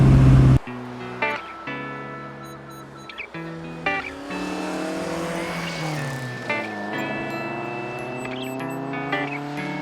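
A 1960 Alfa Romeo Giulietta Spider in the Forza racing game, its engine revving through repeated gear changes with rising and falling pitch, tire squeal cutting in midway, no talk.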